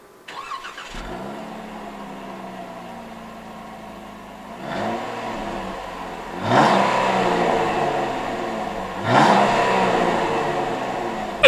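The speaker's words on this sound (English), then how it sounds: "Here is that exhaust clip." A 2017 Jeep Wrangler Unlimited with a single exhaust starts and idles, then is revved twice, each rev a loud rising roar that falls back to a steady rumble, heard close up with no talking.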